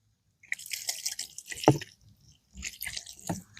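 Water splashes and drips as a coffee press screen is rinsed outdoors at a bushcraft camp, with close wet trickles and squishy handling in two short bursts separated by a pause.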